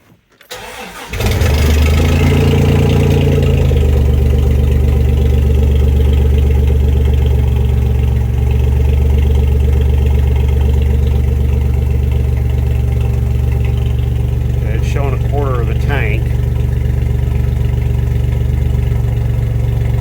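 A Mopar D150 pickup engine catches after a short crank and settles into a loud, steady, low idle that rumbles on close by, with a brief squeal partway through.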